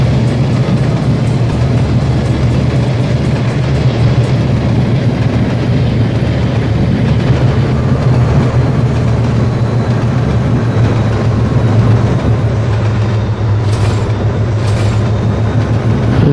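Bangladesh Railway train running with its wheels slipping hard: a loud, steady low rumble and grinding roar of locomotive and rails that continues unbroken throughout, with no voices.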